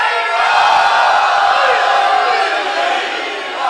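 Crowd chanting slogans at a religious celebration marking the birth anniversary in an imambargah, a dense loud mass of voices shouting together, sustained and roaring for several seconds before tapering slightly at the end.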